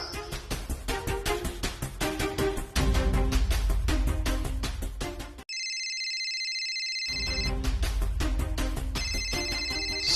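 A phone ringtone plays loudly: a repeating melodic electronic tune that cuts out briefly into a few sustained tones, then resumes, with no talking.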